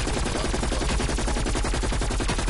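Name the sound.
gunfire in a zombie video game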